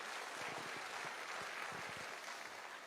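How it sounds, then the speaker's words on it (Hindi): Audience applause, a steady wash of many hands clapping at moderate distance, even and sustained throughout with no talk over it. "एक बार जबरदस्त तालियां तो बनती हैं सर।"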